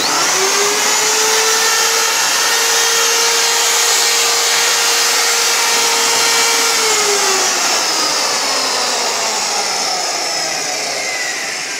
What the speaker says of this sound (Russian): Это вот такой вот 2-киловаттный миксер Rebir.